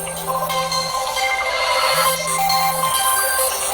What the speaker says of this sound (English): Pardon my phone. It's going to stop ringing in just a second.